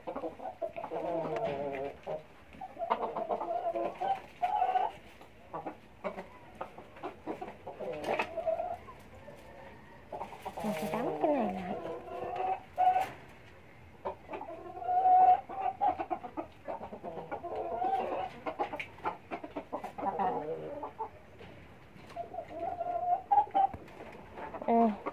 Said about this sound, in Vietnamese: Mấy chú gà mái này.